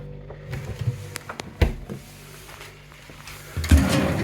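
A cutlery drawer in an apartment kitchen slides open with a short rumble, followed by a few faint clicks and knocks at close range.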